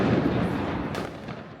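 New Year's fireworks and firecrackers in Copenhagen make a continuous rumbling, crackling din with a sharper burst partway through, dense and sustained across the whole stretch.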